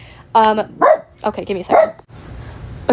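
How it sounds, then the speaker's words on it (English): A pet dog barks a few sharp, close yips and barks mixed in among a person's talk indoors, the barks short and loud against a quiet room. "Sorry, that's my dog."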